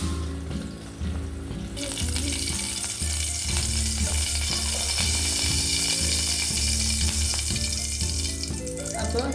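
Mustard seeds spluttering and popping in hot oil in a pan for tempering, with a dense, continuous crackle and sizzle throughout and a steady low hum underneath.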